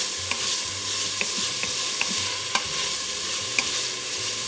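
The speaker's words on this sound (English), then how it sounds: "I'm gonna add the onions to the pot now. And I'm gonna cook this, about four minutes." Chopped onions sautéing in an Instant Pot while a spoon stirs them, giving a continuous sizzle with soft scraping and a few sharp clicks of the utensil against the pot at irregular intervals.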